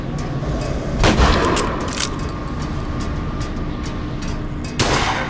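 Gunfire rings out in Bioshock Infinite: Burial at Sea, two loud sharp blasts spaced a few seconds apart over a steady low rumbling backdrop, with no voices.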